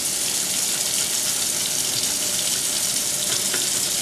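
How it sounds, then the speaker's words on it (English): Tap water runs steadily into a sink as makeup brushes are rinsed under it, a continuous close splashing hiss with no talking. "Rinse them off in the process."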